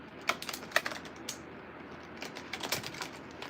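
Tarot cards being shuffled in a series of quick crisp riffles and soft taps, close and fairly quiet, with no talking over them.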